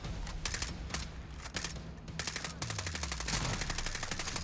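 Automatic gunfire in a video game, rapid repeated bursts of shots at low overall level with brief gaps between volleys, continuing almost without pause.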